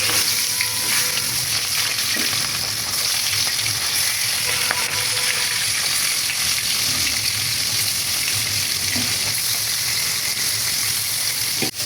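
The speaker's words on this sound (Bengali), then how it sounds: "মাছটা কড়াইয়ের মাঝে দিয়ে দিলাম" Fish rubbed with salt and turmeric sizzles in hot oil in a kadai, a steady, loud crackling fry with occasional sharper pops and spatters, continuing evenly throughout.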